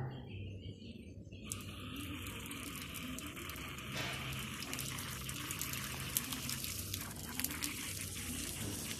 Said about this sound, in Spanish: vas a apreciar que ya está saliendo caliente el agua